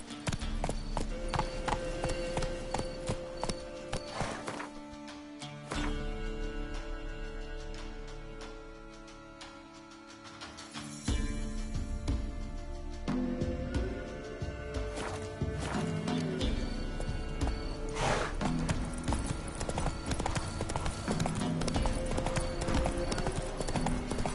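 Hooves of the horse in The Witcher 3 clip-clop steadily across ground in a dense game soundscape with music and ambience, the rhythmic hoofbeats loud and continuous throughout, briefly thinning mid-clip before resuming at full strength.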